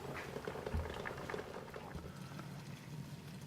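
Chicken and gravy simmering in a pot, Cajun style, with a steady soft bubbling and patter of liquid, close and moderately quiet, with a few brief knocks near the start.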